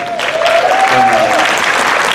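Audience clapping at a sponsored legislative panel, a loud burst of many hands that runs through the whole moment while a voice speaks over it.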